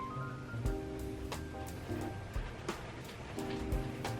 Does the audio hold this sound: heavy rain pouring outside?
yes